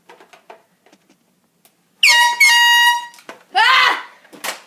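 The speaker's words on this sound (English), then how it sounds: "I gotta show my people the little mini air horn." A small handheld mini air horn gives two loud, sustained blasts close to the mic, the second a little longer than the first, with quiet talk before them and an excited shout after.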